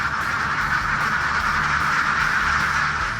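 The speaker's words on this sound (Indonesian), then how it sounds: "ini saatnya buat ngelepasin bebeknya keluar" A flock of ducks released from their pen on a farm in West Sumatra, a continuous dense chorus of quacking close by, steady and busy throughout.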